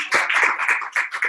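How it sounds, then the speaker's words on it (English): A few people clapping close by at a small coaching session, a quick, uneven burst of distinct handclaps lasting only about a second. "give me a big round of applause"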